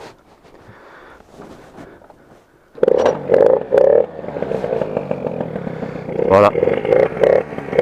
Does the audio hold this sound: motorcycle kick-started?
yes